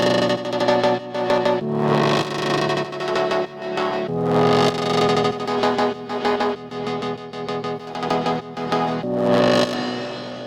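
A layered synthesizer response line from a pop song production, several tracks stacked to sound like one synth, playing bright distorted, echo-washed phrases in repeating bursts, loud and alone with no voice.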